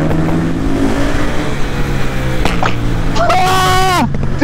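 A motorbike engine revved hard at full throttle, climbing in a rising whine near the end, heard close and loud beneath a continuous roar, with people talking over it.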